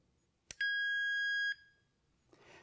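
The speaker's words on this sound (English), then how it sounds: "the audio alarm will beep continuously" GE Choice Alert alarm siren gives a single loud, piercing electronic beep lasting about a second, close up after a click, followed by faint rustling handling noise.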